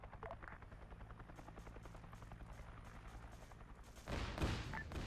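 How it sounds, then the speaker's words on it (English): Ammunition cache cooking off in a Vietnam-era special operations video game: dense, continuous crackle of rapid pops under a steady low rotor-like rumble, swelling into a louder, heavier burst of detonations near the end. "you hit some sort of, like, ammo's cache or something. Something is cooking off down here."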